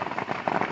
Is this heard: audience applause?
no